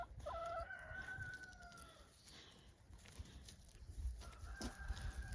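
Chickens on a farm crowing and clucking, with two drawn-out rooster crows near the start and another near the end over steady background clucking and rustle, moderately close.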